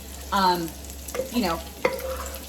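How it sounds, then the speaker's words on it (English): Bacon sizzles and crackles in a pan on the stove, with a few louder bursts of stirring or shifting over a steady frying hiss, close up and with no talking. "cook the bacon to the texture that you like"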